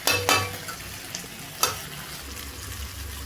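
Chicken sukka sizzles in a pan as a spoon stirs it, giving a few sharp scraping clacks over a soft, steady frying hiss, close and fairly quiet.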